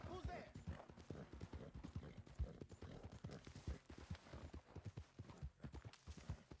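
A horse in the Red Dead Redemption 2 video game gallops with a steady, quick clip-clop of hooves, while someone talks over the rhythmic hoofbeats throughout.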